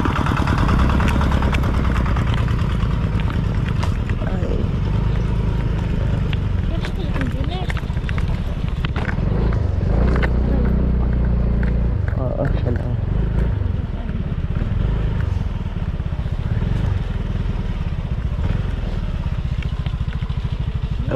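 A motorcycle engine runs at a farm, its steady low rumble continuing throughout under almost constant nearby conversation.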